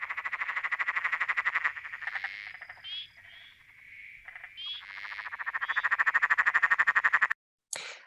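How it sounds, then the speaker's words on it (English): An emerald spotted tree frog gives its loud cackling call: long rapid trains of harsh pulses that rise, break into chuckling notes, then build again, close and prominent before stopping abruptly. "they're sometimes called the emerald spotted tree frog or maniacal cackle frog. That's because they have this loud sort of cackling noise."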